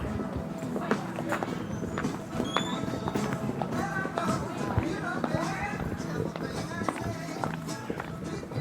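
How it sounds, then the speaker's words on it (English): Quick, sharp high-heel clicks on stone move briskly along, mixed with faint background chatter and ambient noise, arriving at The French Laundry restaurant. "That's the sound of us practically catwalking into the French Laundry."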